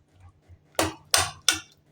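Three sharp metal taps of a spatula against a pot holding boiled papaya curry, spaced evenly and close by, with a quiet background.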